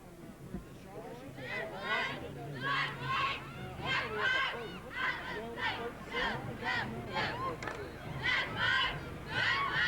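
Girls from the St. Jerome Jaguar cheerleading squad chant a rhythmic cheer in unison at a 1986 homecoming parade, voices rising and falling in repeated shouted phrases, moderately distant over faint crowd noise.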